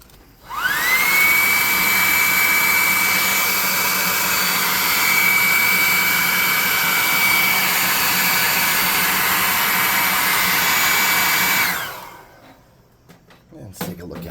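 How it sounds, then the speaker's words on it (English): A hair dryer blasts hot air over a freshly coated painted miniature, a loud steady whooshing roar with a high whine that runs for about eleven seconds, then cuts off abruptly. "we'll dry him off with hot air."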